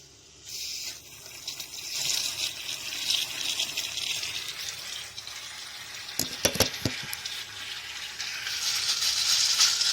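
Brine water pouring and splashing out of a plastic jug of curing olives, a steady wet trickling with a louder gush of splashes midway and a rising flow toward the end.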